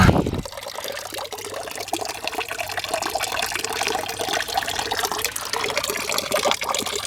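Water runs steadily from an outdoor tap or fountain not marked as drinking water, a close, continuous splashing trickle that starts abruptly and carries on alone.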